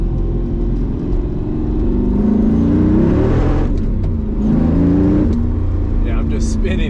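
A tuned Mercedes C55 AMG with a six-speed manual spins its wheels, its engine droning loud and steady with rising and falling whine and a heavy low rumble close by.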